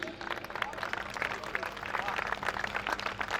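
Scattered audience clapping at a Hindi comedy poetry gathering (hasya kavi sammelan) in Rajnandgaon, a steady patter of many hands at moderate distance with a faint hum beneath, with no talk over it.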